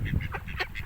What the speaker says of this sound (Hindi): सख्त बतख है